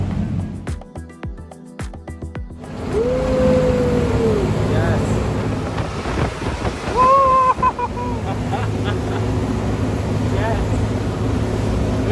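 Water taxi motoring across choppy water near a cruise terminal, steady engine rumble and wind buffeting with rushing wave noise close to the microphone, voices talking over it now and then.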